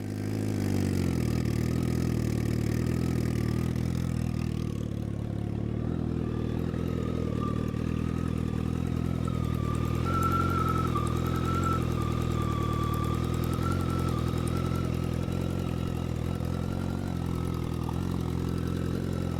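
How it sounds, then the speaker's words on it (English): A 398-horsepower turbo drag bike idles with a rough, steady, slightly flatulent engine note at close range. It revs briefly partway through, then settles back to a lumpy idle for the rest of the run. "a turbo bike when it's just at idle, just revving up"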